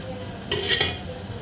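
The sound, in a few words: stirring and roasting gram flour (besan) in a pan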